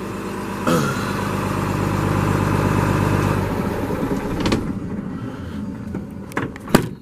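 A 2014 Freightliner M2 flatbed truck's diesel engine idles steadily with a deep rumble, then drops off, followed by a few sharp clicks and knocks nearby.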